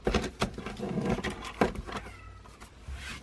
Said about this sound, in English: I don't know if you hear my cat.